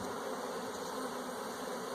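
Honey bees from a package being installed into a hive hum as a thick, continuous swarm drone, close and unbroken, with no one speaking.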